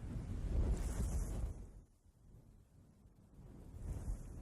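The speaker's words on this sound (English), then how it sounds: "The sound of wind echoes through the compound." Wind blows through a compound in the Fate/Stay Night visual novel game, a low rushing roar that swells, dips to a softer whoosh midway, then gusts up again.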